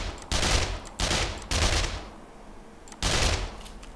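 Gunfire in the video game 7 Days to Die, shooting at a zombie: four loud, sharp bursts of rapid shots spaced about half a second to a second apart, each ringing out briefly before the next.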